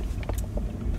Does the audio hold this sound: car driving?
yes